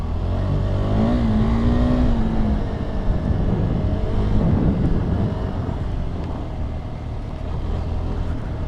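A KTM Adventure 390 motorcycle on an off-road hill climb, its engine droning and rising in pitch as it revs, with heavy wind buffeting the microphone.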